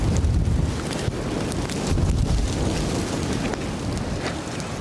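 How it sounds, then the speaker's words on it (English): Strong, breezy outdoor wind during a woodland bushcraft cook-up, buffeting the microphone as a loud, continuous rumbling roar with gusty swells throughout. "you can see how breezy it is"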